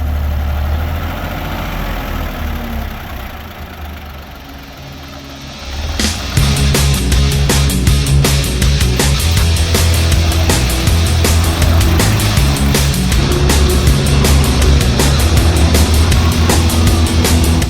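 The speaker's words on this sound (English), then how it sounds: "We got a guy here who just volunteered to bring his tractor out" A heavy antique tractor engine rumbles steadily nearby at a classic machinery show, then revs up and runs louder with a rapid knocking chug that continues to the end; no one speaks.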